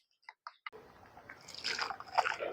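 Egg amino liquid fertilizer is poured: a few faint drips come first, then a soft, steady trickle of liquid runs quietly with nobody speaking.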